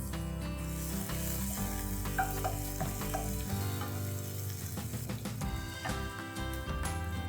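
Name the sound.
green garlic frying in oil for veg korma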